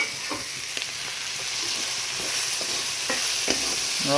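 Tomatoes fry in a pan for a dried fish curry, sizzling steadily close by while a utensil stirs them with a few soft scraping knocks.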